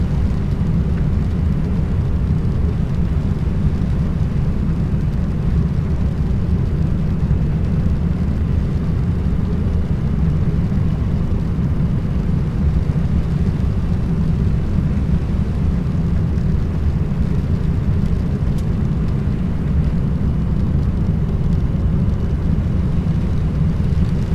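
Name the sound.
Magknight 787-9 airliner on landing approach in X-Plane 11 video game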